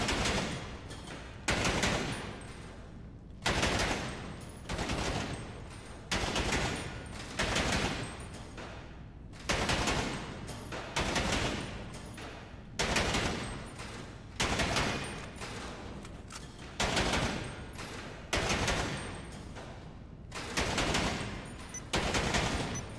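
Bursts of automatic gunfire repeat at a GTA Online shooting range challenge, about a dozen loud, evenly spaced volleys, each a rapid stream of shots cut off by a brief silence.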